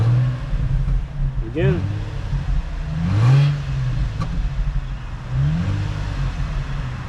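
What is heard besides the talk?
car engine revving with straight-through exhaust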